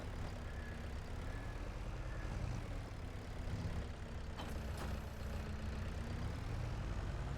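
A tractor engine in the Farming Simulator 22 video game drones steadily and low throughout, a constant heavy idle-like rumble at even loudness with no talk over it.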